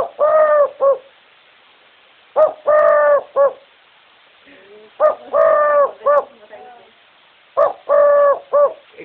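A human voice imitates the call of a kupti pigeon in three loud, close bursts of throaty, cooing notes, each burst a short phrase of two or three syllables separated by pauses.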